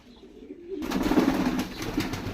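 A pigeon coos nearby, a soft low throaty murmur that swells after a quiet start and carries on with some rustling handling noise.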